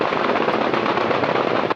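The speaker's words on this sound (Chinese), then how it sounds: "透早金门炮声就真大声，金防部烈士守备大队 214太武操演，出动战甲车向海面实弹射击" Live-fire artillery shots from armored combat vehicles firing out to sea during a military drill on Kinmen, heard as a dense, continuous, loud barrage of rapid blasts with no gaps, cutting off abruptly near the end.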